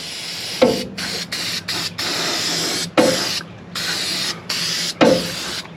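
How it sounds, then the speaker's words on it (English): Repeated short hissing bursts of an aerosol rust spray can, about six quick sprays close by, each a sharp onset of airy hiss with brief pauses. "The magic spray right here."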